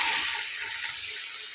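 Red lentils are added to a hot pan while cooking a raw papaya and lentil dish, producing a brief, bright sizzling hiss close by.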